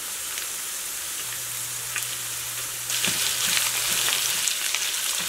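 Chorizo (longaniza) frying in a pan with tortilla and onion gives a steady, dense sizzle that swells louder and crackles more partway through, with no voices.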